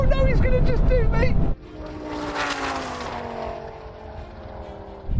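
A Dodge V10 Viper and an 850-horsepower Mustang race: an excited voice gives way to a rising engine roar that swells as the cars pass and then fades away.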